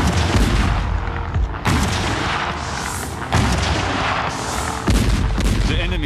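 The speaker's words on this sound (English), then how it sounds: "52 gigantic French siege guns would be devastatingly effective at that range. On the 10th of October, the Allies opened fire." French siege guns of the Allied bombardment fire in heavy, booming salvos, with loud blasts landing about every one to two seconds over a continuous rumbling roar and no talk.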